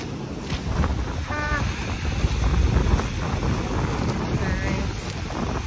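Cold wind buffeting the microphone on the coast at Newcastle, Northern Ireland, a steady broadband rush with surf-like roar throughout, faint voices and bird chirps in the background.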